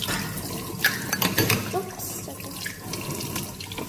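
Tap water runs into a sink while science kit parts, including a sponge, are rinsed clean, a steady close splashing with louder bursts and clatter as the pieces move under the stream.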